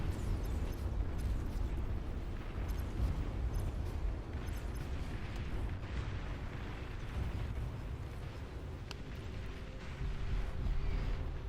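A sustained, rumbling explosion roar from a destroyed commander unit in the real-time strategy game Beyond All Reason, steady and heavy throughout with faint crackles over the top.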